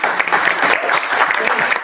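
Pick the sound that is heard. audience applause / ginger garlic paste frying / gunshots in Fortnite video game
audience applause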